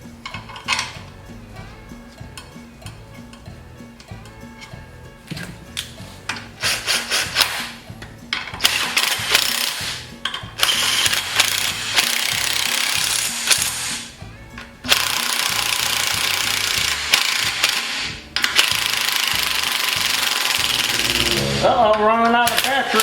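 A battery-powered impact tool tightening bolts on a Yerf-Dog go-kart, firing in repeated loud rattling bursts of varying length separated by short pauses, close by, ending with a quick rising whine.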